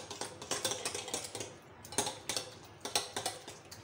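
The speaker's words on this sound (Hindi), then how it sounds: "मिक्स हो गए हमारे तमाम एग्स" Spoon clinking and stirring through beaten eggs mixed with vegetables and coriander in a bowl, a quiet, steady rhythm of soft taps and scrapes, close by.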